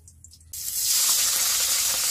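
Cooking oil poured into a hot wok for a prawn masala curry, a sudden loud sizzling hiss that bursts in and holds steady at close range.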